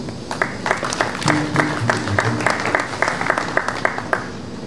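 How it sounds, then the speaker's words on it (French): Audience applause at an official National Tree Day address in Lualaba province, a sustained patter of many hands with a tonal hum and faint voices underneath. "Ne pouvons-nous pas applaudir pour cette vision?"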